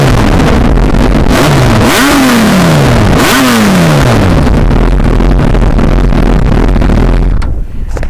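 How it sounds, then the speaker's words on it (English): A Yamaha YZF600R Thundercat sport motorcycle engine revs hard twice, its loud exhaust rising and falling over a steady idle, recorded up close. "I'll just start it up for you now so you can hear the exhaust on it"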